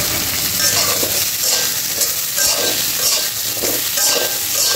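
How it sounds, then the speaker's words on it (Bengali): Brinjal, ridge gourd, potato and slit green chillies frying in a pan make a loud, continuous sizzle, with the spoon turning them in a steady rhythm of scraping strokes. "ভালো করে নাড়াচাড়া করে নেব"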